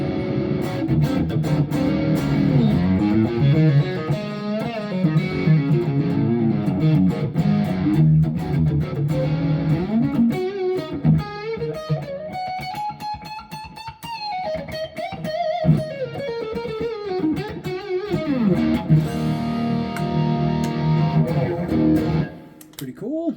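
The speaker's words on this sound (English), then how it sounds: "Let's listen to some high gain tones." An Epiphone Ghost Horse electric guitar played through a Neural DSP Archetype Petrucci high-gain patch: loud, saturated distorted riffs and sustained bending notes ring steadily throughout, with no talking.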